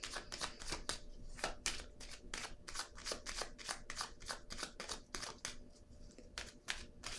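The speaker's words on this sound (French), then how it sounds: "Je vais piger une carte ici pour triomphe à l'envers." Tarot cards shuffled and drawn by hand, a quick run of crisp riffling flicks and slaps with short pauses, close and fairly quiet, no talking.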